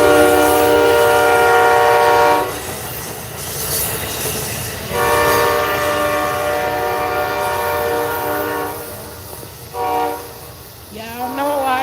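Train passing with loud repeated horn blasts over rumbling rail noise, the horn sounding in long bursts separated by quieter stretches of rolling wagons, nearby and outdoors.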